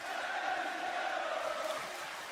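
A live wrestling crowd at a WWE SmackDown event in Paris cheers in a steady, loud roar that fills the arena, swelling slightly before easing off near the end.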